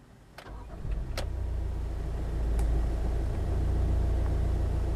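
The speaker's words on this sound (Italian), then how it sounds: "Giriamo la chiave ed attiviamo il motore della Yaris." A Toyota Yaris engine cranks and catches, then settles into a steady low idle rumble, with a few sharp clicks and knocks just before it starts.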